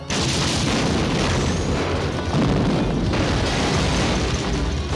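Loud, continuous rumbling blasts and booms roll on without a break, dense and heavy like a sustained barrage of explosions.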